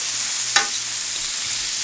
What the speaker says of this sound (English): it's onions and mushrooms and garlic, so I mean that's got to be good, right? And there we go. Just frying it up.